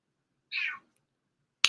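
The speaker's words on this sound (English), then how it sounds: "the kitty's a little hungry" A hungry house cat gives a single clear meow, moderately loud, followed by silence and then a brief sharp click or tap at the end.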